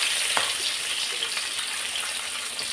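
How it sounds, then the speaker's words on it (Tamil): Mustard seeds and fenugreek sizzle and crackle steadily in hot oil, a dense close frying hiss with a few sharp pops, no talking. "கடுகு பொடிச்சு வெந்தயம் போட்டிருக்கேன். வெந்தயமும் பொடிஞ்சிச்சு."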